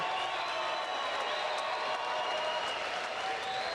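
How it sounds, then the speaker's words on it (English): An arena crowd at a bare knuckle fighting event applauds the two fighters after a five-round bout, a broad, continuous wash of clapping and cheering heard from a distance, with a faint whistle tone underneath. "let's have a round of applause for these two warriors"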